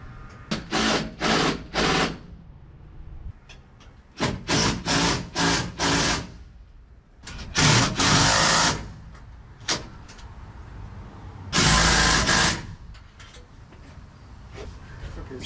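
Bolts being screwed into a sawmill log handling system, heard as repeated bursts of mechanical whirring, likely a power driver, separated by short pauses and faint background activity.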